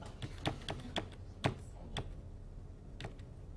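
Keystrokes on a computer keyboard, a handful of sharp separate taps in an irregular rhythm, fairly close and clear, with a short pause before the last few presses.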